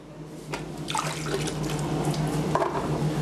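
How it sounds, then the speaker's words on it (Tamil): A cleaning mop dipped into water in a kitchen, giving a steady watery swishing and splashing that builds and continues close and clear throughout, with no talk. "அப்படியே நம்ம தண்ணியில் டிப் பண்ணால் போதுமானது."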